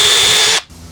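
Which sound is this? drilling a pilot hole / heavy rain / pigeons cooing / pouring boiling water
drilling a pilot hole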